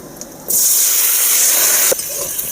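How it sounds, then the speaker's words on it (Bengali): Boiled potatoes go into hot oil and set off an abrupt, loud sizzling hiss that holds steady for over a second, then drops to a lower continuous frying crackle; no speech. "সেদ্ধ করা আলু ভেজে নেব।"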